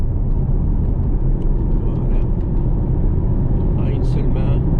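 A Porsche accelerating on the Mettet race circuit, a loud, constant engine rumble from inside the car with a voice talking over it the whole time.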